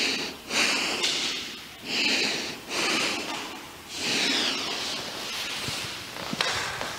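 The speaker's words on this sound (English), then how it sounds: "Stay there, breathe normally." Slow, steady breathing through a yoga hold in a seated forward-bend class, each long inhale and exhale rising and fading with soft, airy rushes and faint nasal snorts, close to the mic and with no talking over it.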